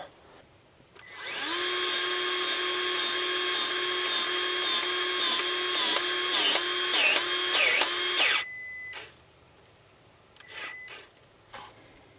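Cordless-style grease gun motor whining steadily for about seven seconds on a Ford's brake and steering fittings, pitch dipping near the end before cutting off, followed by a few short bursts.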